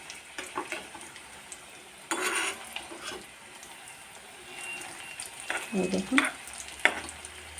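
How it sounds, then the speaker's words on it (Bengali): Shami kebabs frying over low heat in a pan give a soft, steady sizzle with occasional clinks and scrapes of a utensil, and someone speaks briefly. "হালকা আঁচ দিয়ে আমি একটু স্বামী কাবাবগুলো সব ভেজে নিই"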